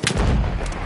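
A grenade explodes in the first-person shooter Battlefield 1, a brief, heavy, booming blast that is loud and close, with low rumble filling the whole moment.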